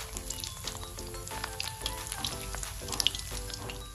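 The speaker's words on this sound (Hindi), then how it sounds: "ऑयल गर्म है, इसमें कोफ्तों को डाल देंगे।" Maggi koftas sizzle and fry steadily in hot oil, a constant bubbling crackle at moderate volume close by, with faint stirring and no speech.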